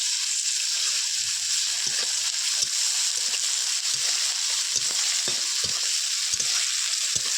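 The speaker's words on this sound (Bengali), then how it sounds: "এবার আমি রসুন বাটাটা দিয়ে দেবো। দিয়ে ভালো করে নেড়ে চেড়ে নেব।" Steady hiss of garlic paste frying in hot oil, with repeated scraping and clinking of a spoon stirring the pan at an irregular pace.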